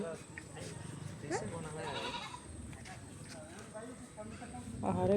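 Goat bleating in a rural village yard while a boy pets it, a few wavering cries rising over background chatter and outdoor noise, with people talking nearby.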